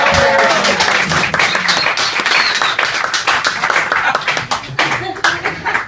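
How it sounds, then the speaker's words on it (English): Audience applause for a comedian at a comedy show in The Hague, loud close clapping from a small crowd that tapers off over several seconds. "Please give a very big round of applause for our next act, Socrates."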